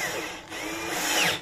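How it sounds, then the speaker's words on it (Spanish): A power drill bores a screw hole while a new dishwasher is installed, a steady whine rising briefly then cutting off, close and clear. "voy a taladrar"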